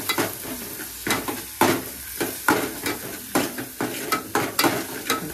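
Onion sautéing in hot oil with curry leaves in a pan, a steady sizzle broken by regular scraping stir strokes, close and fairly loud, with no talking.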